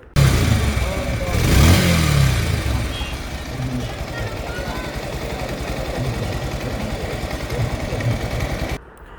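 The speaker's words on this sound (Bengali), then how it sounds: "আর এই বাইকের যে সাউন্ডটা আছে এটা কিন্তু অবশ্যই আপনাদের শোনাবো" A Bajaj Pulsar motorcycle fitted with double disc brakes runs after a brake repair, its engine revving up briefly before settling into a steady idle rumble, with people talking over it.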